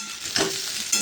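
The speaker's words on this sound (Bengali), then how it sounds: "তারপর আলু পটলগুলো বেশ তেলের সাথে একটু ভেজে নেব" Potatoes and pointed gourd fry in oil with a steady close sizzle, broken by a couple of brief stirring scrapes.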